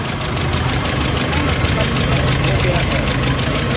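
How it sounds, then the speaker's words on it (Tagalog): A Nissan Navara pickup engine with low power and fuel knocking idles loudly and unevenly nearby, its rough, sputtering pulses continuing steadily throughout. "Kung makikita nyo yung andar ng makina talagang kakaiba."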